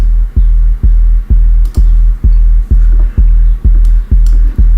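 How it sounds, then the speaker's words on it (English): A deep, booming kick drum thumps about twice per second in a steady pattern, each hit trailing into a sustained washy reverb tail. "So the reverb signal is here"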